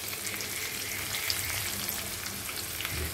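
Prawns fry over a low flame with dried red chillies in a chilli garlic prawn dish, giving a soft, continuous crackling sizzle at an even level, fairly quiet, with no speech.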